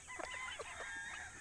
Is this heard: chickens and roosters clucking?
yes